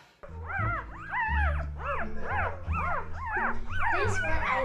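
Several American Bully dogs barking, yipping and whining together nearby in a continuous, excited chorus.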